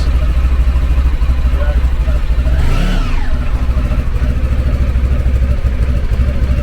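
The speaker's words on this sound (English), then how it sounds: "Look how sweet this engine sounds." Close, steady idle of a Honda Pan European ST1100 motorcycle engine, recently fitted with a new air filter, with one brief rev swelling and falling midway before the smooth rumble resumes.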